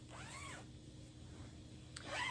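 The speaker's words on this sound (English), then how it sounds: "it does have the zipper back" The zipper on the back of a black, fitted, sleeveless crepe dress is run up and down, a faint, smooth zip near the start and another near the end.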